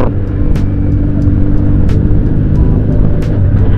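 Benelli Patagonian Eagle 250 cc carbureted motorcycle engine idles with a loud, steady low rumble and a few brief higher-pitched clicks or pops over it, close by with no talking.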